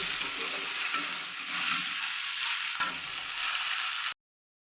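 Dried fish fries with salt while being stirred in a pan: a close, steady sizzle with soft scraping strokes and one sharper knock near the end before it cuts to silence.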